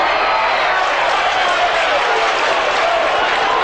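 A packed crowd at a 1983 SANFL Australian football match roars after a goal, a loud, continuous wash of cheering with no break.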